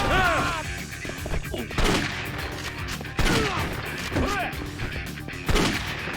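Shotgun blasts in the video game Yakuza 3: three or four loud, booming shots spaced a couple of seconds apart, with voices and game sounds between them.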